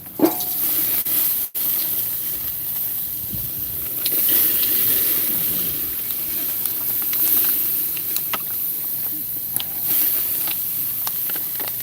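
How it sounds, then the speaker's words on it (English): A grill flame under smoking ribeye steaks being doused, producing a loud sustained hiss and sizzle of steam with a sharp burst near the start and crackles throughout. "The reason why we want to douse that flame is because it is going to scorch."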